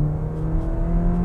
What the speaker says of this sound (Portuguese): escolher o modo esporte aqui, eu tenho uma transmissão do som do motor para dentro do carro